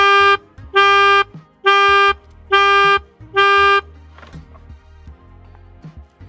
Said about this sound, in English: the piano with the tube you blow into